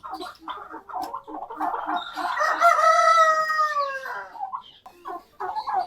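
A large red rooster kept free-range with hens lets out one long, loud, close crow, with short clucks and calls before and after it.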